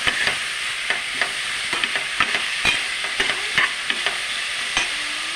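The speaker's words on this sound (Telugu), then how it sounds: "ఇవిగండి ఉల్లిపాయలు మగ్గిపోయినాయి." Sliced onions with turmeric and salt softening in a hot pan, a steady bright sizzle broken by repeated sharp scrapes and clacks of a spoon stirring, close and fairly loud with no talking.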